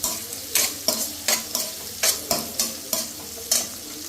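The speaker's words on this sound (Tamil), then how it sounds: "மீன் மசாலாவையும் நல்லா வதக்கிட்டு" Fish masala with green chillies sautés in a pan, a bright sizzle broken by regular scraping strokes of a spoon stirring about twice a second.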